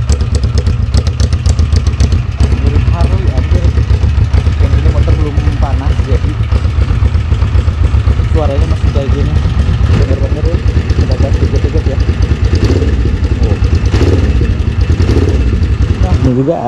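A carbureted 1980s Kawasaki GPZ 500S motorcycle engine idles cold, its uneven, loping pulses running steadily and loud throughout, with talk over it.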